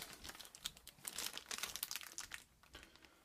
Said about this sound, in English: We can open this bag like that